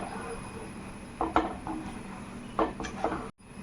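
A spoon stirs medicinal Karkidakam rice porridge enriched with ground coconut milk in a pot, giving a few scattered scrapes and clinks at close range over a quiet kitchen background.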